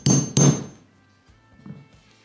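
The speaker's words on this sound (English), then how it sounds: "I'm just gonna give it a bit of a tap with this." Two sharp hammer taps strike a mark into wood from an old coffee table, marking a point before drilling. A short gap separates the loud, close hits, and a faint quieter knock follows.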